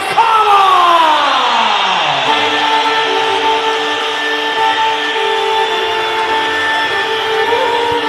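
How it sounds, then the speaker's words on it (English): A large arena crowd at a mixed martial arts event roars and screams loudly and continuously, a dense wall of cheering voices with a whooping yell sliding down at the start. "The crowd on their feet screaming"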